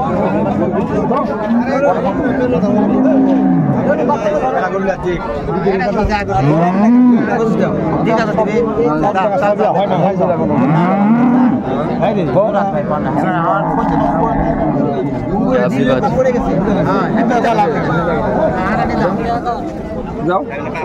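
Dairy cows and calves moo several times, long rising and falling calls, amid constant crowd chatter and nearby talking at the busy outdoor Raniganj cattle market in Dinajpur, Bangladesh.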